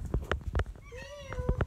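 A single close, rising meow from a cat cuts through a short burst of rapid tapping or rustling noises.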